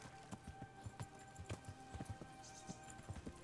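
A horse trotting in Kingdom Come: Deliverance, its hooves striking in a steady, fairly quick clip-clop rhythm, near and distinct against quiet background ambience.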